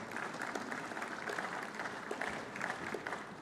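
Applause from a conference audience at an Africa summit, as a co-founder of FTS Group is welcomed to the stage: a steady, even wash of many hands clapping at moderate, distant level.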